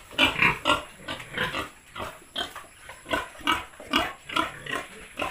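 Pigs grunt repeatedly on a farm among pregnant sows, a steady series of close, loud, rough grunts in uneven rhythm with no talking.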